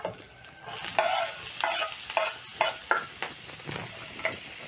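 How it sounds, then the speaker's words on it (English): Sliced onions frying in cooking oil in a pan for Lyonnaise potatoes, a steady close sizzle broken by repeated stirring scrapes and clinks, with no talking. "I'm going to add some cooking oil to my pan, and then I'm going to add in my sliced onions."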